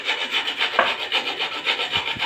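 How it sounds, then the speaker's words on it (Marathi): Fresh coconut being grated finely by hand, a steady close-up rasping scrape repeating in quick, even strokes with no talking. "तर मग तेवढं खोबरं मी किसून घेतलं. खूप बारीक किसायचं होतं"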